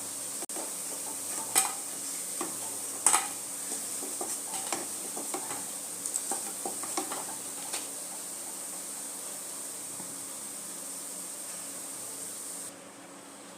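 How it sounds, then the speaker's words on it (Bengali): Lentil fritters (dal bora) frying in hot oil in a kadai, a soft continuous sizzle with scattered sharp clicks and scrapes as they are stirred and lifted out, quiet and close, no talk. "বড়াগুলো দেখুন আমার ভাজা হয়ে গেছে এবার বড়াগুলোকে আমি উঠিয়ে দেবো"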